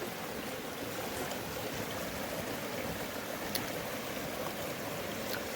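A small waterfall rushes steadily in the distance, a soft, even wash of falling water with no voices, heard from nearby brush on a nature walk.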